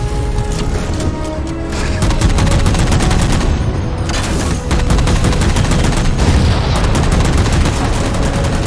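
Sustained, loud gunfire in Halo 4 as the player shoots down jammers, with dense rapid shots running almost unbroken throughout and short pauses near the two- and four-and-a-half-second marks.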